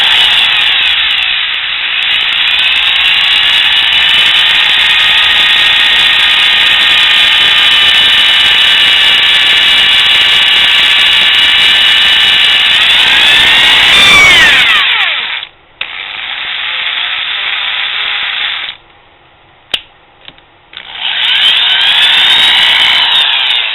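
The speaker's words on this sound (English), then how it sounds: "You're drilling really fast, and you probably can't see the bit of this." A drill tapping threads in aluminum whirs loudly and steadily, grinding on, then cuts out abruptly and restarts in short bursts with brief gaps between.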